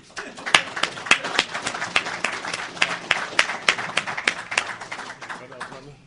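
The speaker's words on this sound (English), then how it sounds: "Y'all can clap." A small crowd claps at an entertainment summit, sharp uneven hand claps building quickly and then thinning out over several seconds, close and fairly loud with no talk over it.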